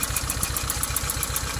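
Proton Wira car engine idling roughly with one spark plug removed, a close, uneven pulsing chug with a regular misfiring beat and a faint ticking on top.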